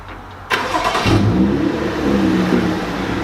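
A BMW F30 engine fires up by remote start with a sharp crank burst, then settles into a steady, fairly loud idle with a slight rev, close by and without speech.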